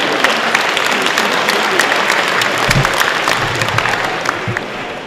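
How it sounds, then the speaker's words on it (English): Audience applause at a business dinner banquet fills the room, a dense, steady clatter of many clapping hands that holds strong before easing slightly at the end. "Please give a big round of applause to our sponsors for making this evening possible."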